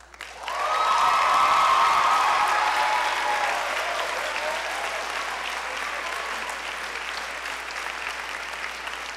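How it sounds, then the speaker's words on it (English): Sustained applause from an audience for a high school choir, rising quickly to a full, dense round of clapping with a few cheers, then holding steady and gradually easing. "Would you please give these students one last round of applause?"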